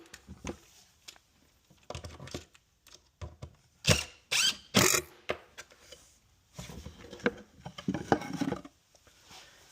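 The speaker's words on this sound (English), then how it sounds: "And I'm simply going to screw that in place." A holder is screwed into a wooden hand tool cabinet, giving intermittent close clicks, scrapes and short bursts of driving and rubbing, with quiet gaps between.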